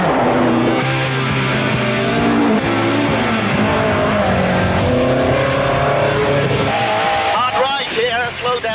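A rally car with Roger Clark at the wheel is driven hard along forest stages, its engine roaring loud and close with repeated revving, gear changes and acceleration throughout.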